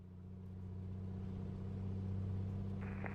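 A Piper PA-24-250 Comanche engine in the A2A flight simulator runs up toward 2,000 RPM, a steady droning hum that builds gently in loudness and holds near and continuous without voices.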